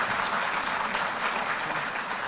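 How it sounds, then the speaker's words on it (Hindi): An audience at a public event claps continuously, a dense, even roar of many hands sustained throughout without voices. "तालियां बजती रहें।"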